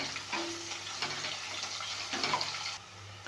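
Finely chopped onion sizzling in hot oil in a home kitchen for masala pulao, a steady close frying hiss with occasional stirring scrapes, no one talking.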